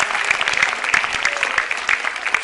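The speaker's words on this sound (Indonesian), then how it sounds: "Tepuk tangan buat Metro TV." A studio audience at a Metro TV stand-up comedy show claps together in a brisk, lively burst of applause, with no talking over it.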